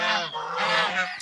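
A male goose honks loudly and close by on a winter morning, giving a continuous run of harsh, nasal calls that rise and fall over about a second.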